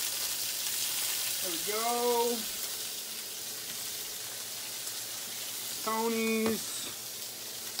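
Shrimp fry in an oiled pan with a steady, even sizzle throughout, while someone speaks briefly over it twice.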